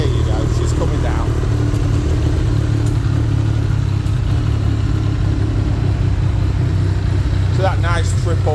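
A Triumph Daytona T595 motorcycle with a three-cylinder engine and Quill exhaust idles close by, a loud steady low rumble coming off choke, with people talking over it.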